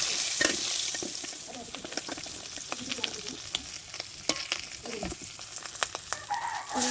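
Fish fry in hot oil with a steady crackling sizzle throughout, broken by sharp pops and the clink of a utensil as pieces are lifted out; a rooster crows faintly in the background.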